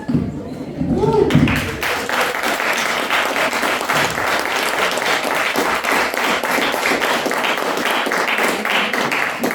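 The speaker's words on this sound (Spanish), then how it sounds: "nuevamente un aplauso para esta gran presentación de este texto" An audience at a talk on cultural and linguistic resistance breaks into sustained, loud applause after a presentation, many hands clapping steadily for several seconds following a brief spoken word at the start.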